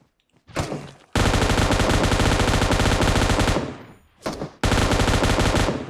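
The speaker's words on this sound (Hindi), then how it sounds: "अच्छा गोली चलाया गोली चलाया।" Automatic gunfire in the battle-royale game PUBG blasts in two long, loud, continuous bursts separated by a short pause, close and dense with rapid shots.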